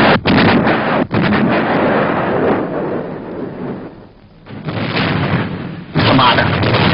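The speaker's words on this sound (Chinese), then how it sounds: "用快炮射击，打沉他" Naval quick-firing guns fire during a sea battle in a 1962 Chinese war film, producing loud, heavy booms that run into a continuous thundering rumble with brief dips between salvos.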